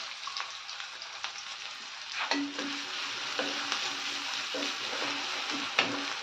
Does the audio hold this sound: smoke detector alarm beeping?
no